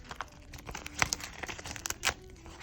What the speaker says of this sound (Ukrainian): Такий пакетик ми сьогодні з вами відкриваємо